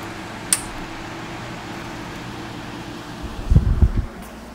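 A portable air conditioner running off a VTOMAN Jump 1800 LiFePO4 portable power station gives a steady, even fan-like hum throughout, with a brief click early on and a few low thumps near the end.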